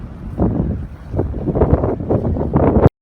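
Strong wind buffets the microphone in loud, gusty rumbles that rise and fall continuously, with a low roar throughout and no talking, at the Battleship Texas Historic Site.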